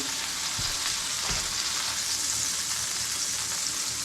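Homemade ground sausage sizzles and fries in a pan, with a steady, dense crackle running throughout, close and moderately loud, and a couple of soft low thumps from the pan.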